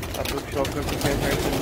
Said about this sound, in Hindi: सारे के सारे कबूतर आप मेरे पीछे देख सकते हैं